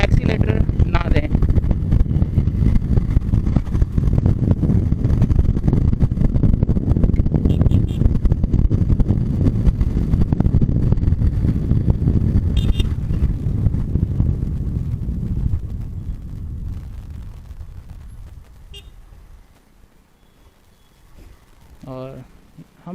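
A motorcycle cruising at steady normal speed on a highway near Delhi, engine drone and heavy wind buffeting loud and continuous, fading out in the last seconds.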